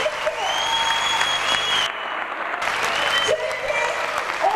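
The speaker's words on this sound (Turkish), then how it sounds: "Son olarak birazdan sahneye çıkacak arkadaşlarımız için sizlerden kuvvetli bir alkış" An audience claps loudly at a university folk dance night, a thick, continuous burst of applause that briefly dips before swelling again, with a faint tone running underneath.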